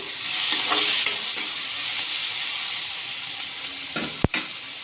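Vegetables are stirred into a hot pan with green chillies, and a steady close sizzle and frying hiss run throughout, broken by scraping stirs and a sharp clatter near the end.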